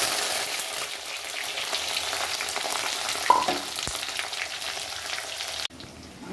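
Chopped garlic, ginger, green chili and curry leaves frying in hot oil over a lowered flame for beef fry, giving a steady, dense sizzle throughout, a brief clink midway, and a sudden drop near the end.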